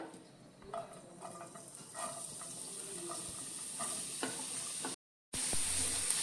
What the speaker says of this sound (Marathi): आता मी हे बरं भाजून घ्या माझा तांबड जातपर्यंत.